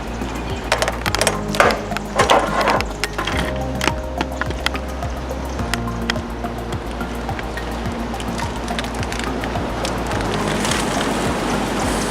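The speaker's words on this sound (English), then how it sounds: "that's the water hitting the charcoal" Water hits hot charcoal in a barbecue grill, producing a broad, steady hiss that builds and holds, with occasional wooden knocks and clatter early on.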